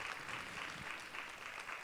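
Steady applause from an audience at a suicide prevention community forum in Southfield, a dense, even patter of many hands clapping throughout without voices.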